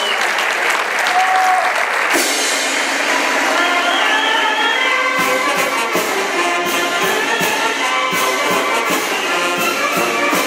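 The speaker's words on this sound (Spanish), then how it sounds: "un aplauso para los muchachos" Crowd applauding a war band at a centenary celebration, loud continuous clapping with some cheering and shouts, steady and close for the whole stretch.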